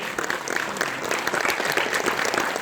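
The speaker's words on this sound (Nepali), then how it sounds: "प्लिज ससम्मान जोरदार तालीले स्वागत गरौँ शैलेश कणेल छेत्रीलाई" Audience at a film premiere in a mall clapping loudly to welcome a film's creator and director to the front, dense sustained applause from a crowd with faint voices mixed in.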